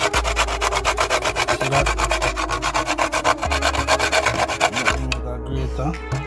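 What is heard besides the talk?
grating whole nutmeg on a grater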